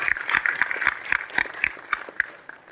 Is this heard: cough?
no